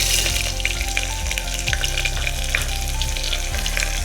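Onions frying in a pan for tomato rice bath, giving a constant crackling sizzle with light stirring clicks scattered through it, heard close and fairly loud over a faint steady hum.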